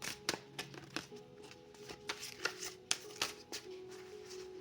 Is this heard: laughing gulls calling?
no